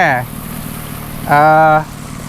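A watering boat engine idles unrevved with a steady low hum throughout, interrupted twice by a short, loud tonal voice sound.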